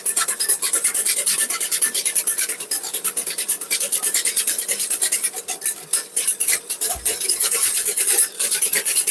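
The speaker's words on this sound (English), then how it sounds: "You just keep whisking." Close, loud whisking of béarnaise sauce in a pan, rapid rhythmic scraping strokes repeating without pause, a wiry metallic rasp with brief slower dips.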